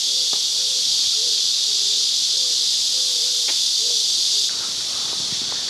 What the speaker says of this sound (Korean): 매미.